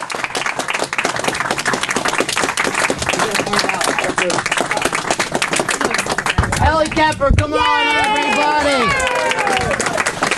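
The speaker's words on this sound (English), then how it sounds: "Oh, they kept clapping." A studio audience claps and cheers in a dense, sustained burst while a host shouts excitedly over the applause.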